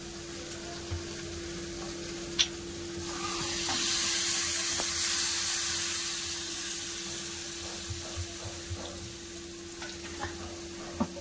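Water is poured into a cauliflower curry simmering in a hot pan, and a broad rushing hiss of pouring and steam swells in the middle of a steady sizzle, with a constant hum and scattered small clicks.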